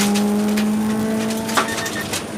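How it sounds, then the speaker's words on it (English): A rally car's engine screams at sustained high revs during a timed stage run, with a steady, loud, close-up drone that holds a constant pitch throughout. "That was my rev limiter."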